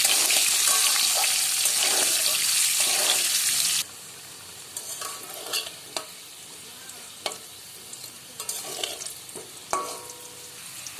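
Potato pieces fry in oil with salt and turmeric, starting as a loud, dense sizzle that suddenly drops to a quieter crackle, with scattered spoon scrapes and clinks against the pan, close by and without voices.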